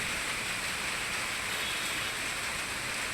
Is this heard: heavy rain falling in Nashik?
yes